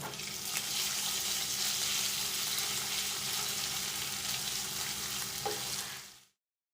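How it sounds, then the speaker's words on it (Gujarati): Ginger-garlic paste, asafoetida and green chilli sautéing in hot oil in a pan for a potato curry, giving a steady, close, loud sizzle and crackle with no talk, ending abruptly. "અડધો ટીસ્પૂન લીલું મરચું અને હવે મસાલાને અડધી મિનિટ જેવું સાંતળી લઈએ"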